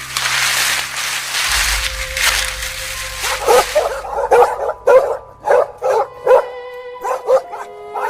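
Five pet dogs bark near a rural hut, a sharp, loud run of repeated barks and yips after a steady hum, coming in an irregular burst of several dogs.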